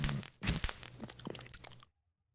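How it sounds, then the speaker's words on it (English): Bubble wrap crunches underfoot in a video game, a quiet burst of crackly pops and crunchy steps lasting under two seconds, followed by near silence. "Why is there bubble wrap all over the fucking ground?"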